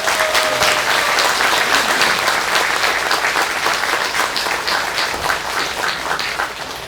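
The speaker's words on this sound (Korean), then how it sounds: "우리 용기 내시라고 큰 박수 한번 주세요." Audience applause for two professors during a Buddhist New Year all-night practice Dharma talk, a dense steady burst of many hands clapping that fills the room and slowly tapers toward the end, with no talk.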